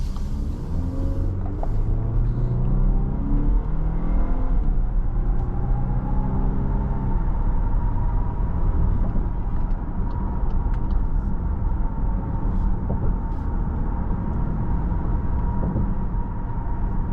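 A 2024 Volkswagen Atlas 2.0T SEL accelerates on the road, with a steady low engine and road rumble inside the cabin and a faint tone climbing in pitch as speed builds, without any talking.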